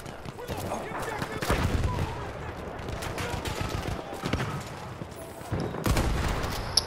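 Battlefield 1 battle in the Argonne Forest, where a Type 38 Arisaka rifle fires among scattered shots and distant explosions. Voices are heard over the steady din of combat.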